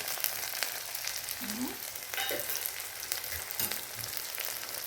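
Curry leaves and dried red chillies frying in oil, a faint, steady sizzle with a few soft stirring knocks.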